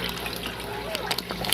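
Engine coolant trickling and splashing as it drains from the radiator drain plug with its nylon nut on a 2005 Mercury Sable with a Duratec V6, a steady close flow under a man's speech.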